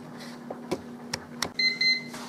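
A pressure cooker's timer chimes after a six-minute cook of mac and cheese, a few short sharp clicks followed by a series of clear electronic beeps, close and moderately loud with no voices.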